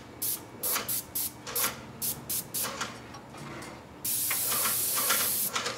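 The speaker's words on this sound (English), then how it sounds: "And here we are doing the spraying, top to bottom, left to right." A spray gun lays a thick coat of paint on a wall, working top to bottom and left to right, in short hissing bursts that turn into one steady, louder spray near the end.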